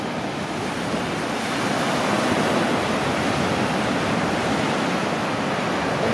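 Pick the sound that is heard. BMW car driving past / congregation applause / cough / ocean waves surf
ocean waves surf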